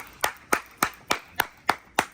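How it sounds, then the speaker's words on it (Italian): Seven sharp, evenly spaced claps, roughly three per second, ring out close and clear at a lively barbecue party in a villa, honoring Andrea Lombardo. "un applauso ad Andrea Lombardo"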